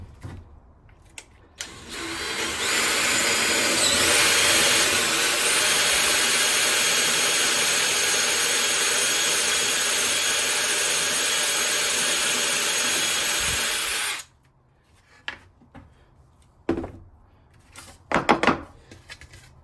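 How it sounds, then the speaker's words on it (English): A 28 mm hole cutter on a power drill bores through a porthole cutting template during a narrowboat fit-out, a loud steady whining roar lasting about twelve seconds before stopping, followed by faint handling clatter. "So I'm just going to use the hole cutter."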